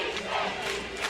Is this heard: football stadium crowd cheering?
yes